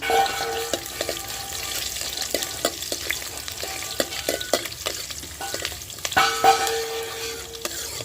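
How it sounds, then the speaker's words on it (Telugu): Onions and tempering seeds sizzle steadily in a hot pan over a wood-fired stove while a utensil stirs and scrapes, making irregular clicks and knocks close by. "ఫ్రై చేసేసుకోవాలి బాగా"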